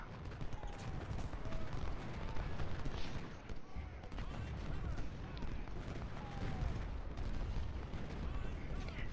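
Steady, dense rattle of massed musket volleys from Civil War brigades in Ultimate General: Civil War, with scattered sharper shots and booms over a continuous low rumble of battle, loud and sustained throughout.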